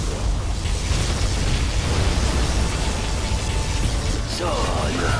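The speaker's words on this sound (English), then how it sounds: "Particle cannon activated." The particle cannon fires in C&C Generals Zero Hour, a loud roaring beam blast that rumbles steadily before a brief sweeping zap near the end, mixed with battle noise.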